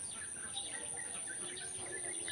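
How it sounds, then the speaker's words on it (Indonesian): Birds chirping near rice fields in rural Indonesia at dawn, faint scattered calls over a steady high insect-like whine and soft outdoor ambience. "ada suara burung-burung terdengar di sana"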